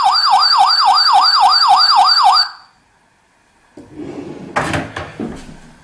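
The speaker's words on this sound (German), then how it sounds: "Zack, geht der Alarm direkt an." Toy drawer burglar alarm from a magazine gimmick, a small electronic siren wailing loudly in rapid rising-falling sweeps for about two seconds, then cutting off; after a short silence, rustling and handling noises follow.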